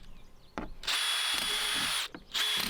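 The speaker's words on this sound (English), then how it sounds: "We're gonna drill holes around the top border of our top bin" Close-up power drill whines through a plastic worm bin in two sustained bursts, the second shorter, with brief clicks and handling noise between them.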